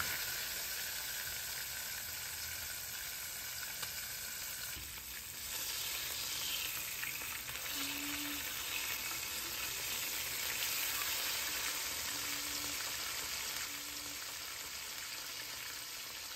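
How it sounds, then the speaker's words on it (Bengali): Fish frying in hot mustard oil, a steady dense sizzle that continues throughout at an even level, with faint clinks and stirring sounds now and then and no talking. "এবার চলুন এক এক করে মাছগুলো গরম তেলের মধ্যে ছেড়ে দিই।"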